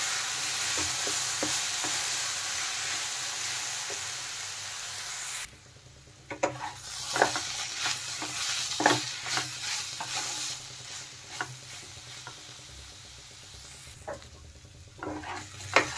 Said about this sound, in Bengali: দেখেন মশলার সাথে কিন্তু ভালোভাবে কষানো হয়ে গেছে পেঁপে আর আলু